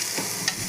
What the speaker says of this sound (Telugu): కరివేపాకు అయితే మంచిగా వేగాలి